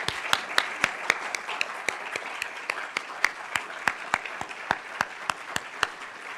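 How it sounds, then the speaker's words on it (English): Sparse applause at a Johns Hopkins reunion symposium and awards ceremony, a few distinct, evenly spaced claps standing out over a softer bed of scattered clapping from the audience. "one more round of applause for these four kings"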